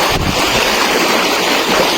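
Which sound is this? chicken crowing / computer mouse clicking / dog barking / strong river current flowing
strong river current flowing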